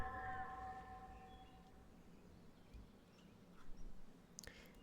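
A cat card in MTG Arena gives a short synthetic meow at the very start, a brief tonal call with harmonics, followed by a quiet game background and a few faint clicks near the end.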